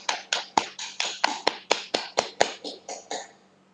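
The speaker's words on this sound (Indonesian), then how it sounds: "Miss sampaikan Dewantara untuk 3 kali tepuk pramuka" Scout claps in a classroom setting, a quick rhythmic run of about fourteen sharp hand claps in grouped patterns, close and clear, fading slightly toward the end.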